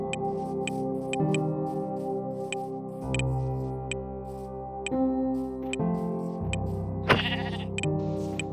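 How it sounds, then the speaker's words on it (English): Sheep bleats from the video game Minecraft, several short game-audio bleats recurring over a steady background music track, with no talk. "Let's transform into a sheep, without he know, and see what he will do."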